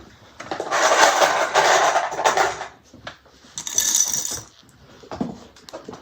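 Sewing clips snap onto the side seams of a Brunella bag, its fabric pieces placed right sides together, with bursts of rustling fabric and sharp plastic clicks close by.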